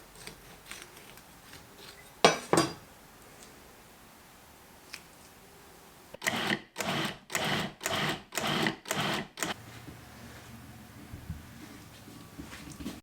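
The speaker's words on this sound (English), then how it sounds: "I'm just pitting these and I'm getting them into the food processor" A food processor chopping plums pulses in six short, even bursts of whirring, close by, after a couple of brief clatters.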